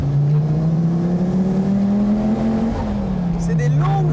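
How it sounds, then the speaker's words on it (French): Donkervoort F22 sports car engine and exhaust heard from inside the cabin, a loud continuous droning roar with a steady tone that dips slightly near the end, with a voice briefly audible over it. "comme tu as l'échappement vraiment à côté de tes oreilles, ça domine un peu l'expérience"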